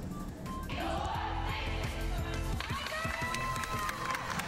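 A school cheer team performs at an event as a crowd cheers and claps, with rhythmic thumps and shouts in a busy, echoing space.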